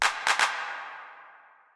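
A synthesized clap sample with a long, ungated reverb tail: a short opening hit, then a quick double clap, each ringing out into a smooth washy decay that fades slowly, alone and clean.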